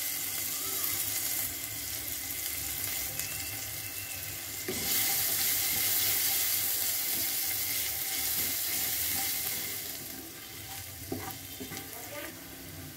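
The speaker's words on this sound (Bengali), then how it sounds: "পেঁয়াজটা প্রায় ভাজা হয়ে গেছে, এবার রসুন কুচি দিয়ে দিচ্ছি।" Onion sizzles steadily in a pan, and the frying grows louder partway through as chopped garlic goes in, for a paneer tarka. The hiss is continuous and close, with occasional stirring.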